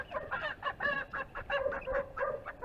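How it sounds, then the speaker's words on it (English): Chickens on a small backyard farm cluck in a steady run of close, repeated calls, fairly loud and alone without talk. "I can't stand that chicken right there."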